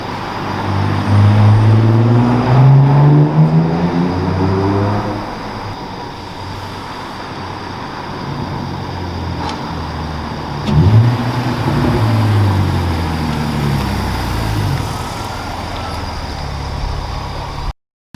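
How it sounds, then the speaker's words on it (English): A BMW E46 with a coolant leak drives slowly over a workshop pit, its engine a low, close rumble that rises and falls as it moves, with a surge partway through and an abrupt cut at the end. "he's going to be brave and drive over the pit"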